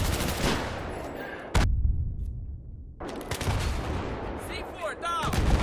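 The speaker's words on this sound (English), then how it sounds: "Oh, I'm getting shot." Gunfire in the video game Battlefield 3, sustained bursts of loud weapon fire with a brief quiet gap before the shooting resumes, mixed with in-game battle noise.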